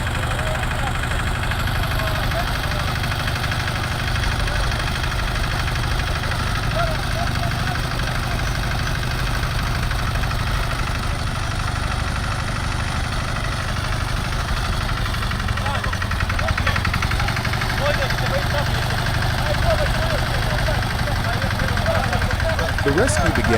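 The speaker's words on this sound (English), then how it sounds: "Two tractors, a Tomo and an MT765 arrived to assist in the rescue." Tractor engines, a Tomo and an MT765, idling at a farm vehicle recovery on wet ground: a steady, loud low rumble with a mid-range drone that holds throughout, without speech.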